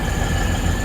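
A train at Lochinvar station on the Maitland to Scone line gives a steady, loud low rumble of rolling wagons and engine, continuous and close with no talk over it.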